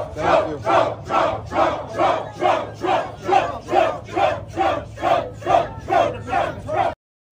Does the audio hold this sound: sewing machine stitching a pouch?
no